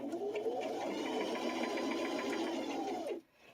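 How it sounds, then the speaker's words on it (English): A sewing machine stitches a pleated fabric clutch toward a corner, running steadily and close for about three seconds before stopping abruptly. "You're going to sew until you get about even with the corner."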